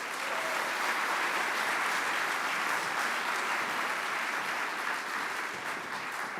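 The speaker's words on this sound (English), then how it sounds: "maybe another applause" Large congress audience applauds at a geothermal conference closing ceremony, a broad, even wash of many hands clapping that holds steady at full strength throughout, slightly easing toward the end, with no speech.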